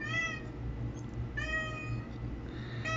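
A house cat meows three times, clear and close, each cry a drawn-out harmonic wail separated by brief pauses over a quiet background hum.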